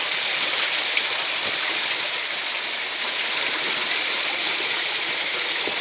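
A clear stream runs over small waterfalls along a forest trail, a steady broad rushing and splashing of water that holds at an even level throughout with no voices.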